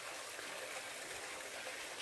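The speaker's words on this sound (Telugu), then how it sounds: "దాంట్లో నుంచి నీళ్ళు వస్తున్నాయి" Water gushes steadily from an outlet at a Hindu temple shrine, a continuous broad hissing splash that stays even and fairly close throughout.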